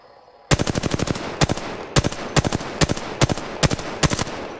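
Rapid automatic gunfire in Apex Legends, with repeated short bursts of sharp evenly spaced shots starting suddenly after a quiet moment and continuing loud and close in a steady rhythm.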